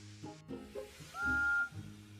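Cartoon steam engine whistles from Thomas and Friends in Misty Island Rescue, a few short puffing chuffs followed by one sustained shrill whistle, then a couple more soft puffs.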